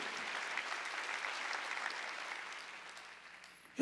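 A church congregation at a Korean Sunday worship service claps in steady, moderately soft applause that gradually thins toward the end, cut off by a brief sharp noise.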